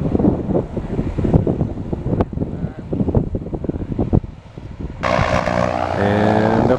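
A blimp climbs over a lake and passes overhead, first heard through gusty wind buffeting the microphone, then its engine drone swells into a steady, louder humming tone for the final seconds.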